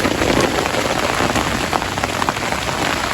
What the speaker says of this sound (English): Raining pretty heavily all morning